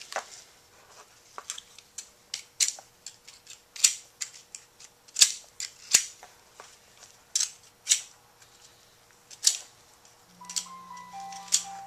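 Scissors trim excess cured Gorilla Glue foam from a pair of clacker gloves, giving quiet, crisp, irregular snips and clicks spaced unevenly across a near-silent background.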